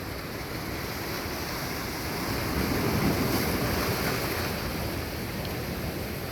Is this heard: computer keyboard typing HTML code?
no